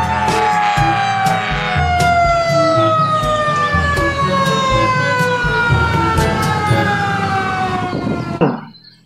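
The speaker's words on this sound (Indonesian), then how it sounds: "Yang ini ada mobil pemadam kebakaran." A toy fire truck's electronic siren wails loudly and close, its tone slowly sliding downward over a pulsing, rhythmic beat, and it cuts off abruptly near the end.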